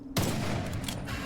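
A single sharp gunshot from a weapon in the video game Witchfire, a sudden loud burst with a short noisy tail, heard alone.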